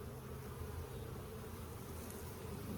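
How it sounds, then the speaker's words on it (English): Dense, steady buzzing of many honeybees inside an open beehive on a farm in spring, close and unbroken throughout. "you can see a lot of bees there"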